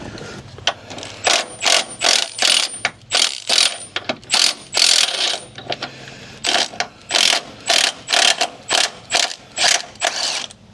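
A hand ratchet backs out a rusty body bolt on a Jeep Gladiator, clicking in loud, close bursts of quick pawl ticks separated by short pauses as the handle is swung back and forth.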